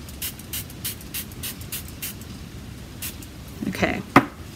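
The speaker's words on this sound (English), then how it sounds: "Okay, now we're going to spray it." A spray bottle misting ink onto stamped paper during a watercolor stamping craft gives a series of short, evenly spaced spritzes. A few light clinks and some faint speech-like sound follow near the end.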